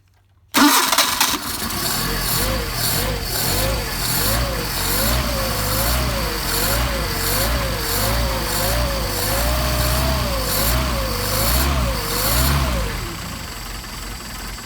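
A Mercedes 190SL engine with Solex carburetors cranks and catches, then runs cold at a loud, steady idle with a wavering, hunting rhythm for about twelve seconds before settling slightly.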